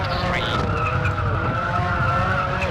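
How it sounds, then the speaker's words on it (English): Rally car tires squeal loudly and continuously on tarmac in the WRC II Extreme racing game, a sustained screech over steady engine roar while the car is pushed hard through a stage. "Listen to these tires squeal along the tarmac."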